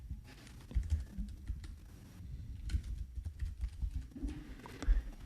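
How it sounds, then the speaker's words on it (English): Keystrokes on a computer keyboard while entering text into a design program, a steady run of quick, close clicks and taps with uneven rhythm and small pauses, no talking. "Let's type."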